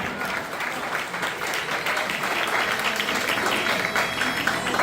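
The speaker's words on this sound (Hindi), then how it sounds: "जोरदार ताली।" Loud, sustained audience applause at a Jain literary gathering welcoming a woman poet, a dense, steady wash of clapping hands filling the full length without pause.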